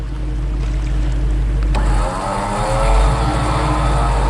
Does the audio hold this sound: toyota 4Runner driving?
yes